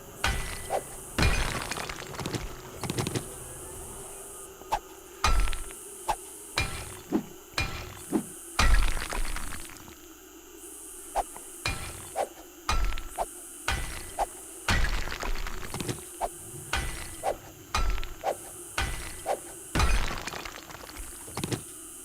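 A ladder being smashed in the video game 7 Days to Die: a long series of sharp, loud breaking and cracking impacts at irregular intervals, with quieter ambience in the gaps and no talking.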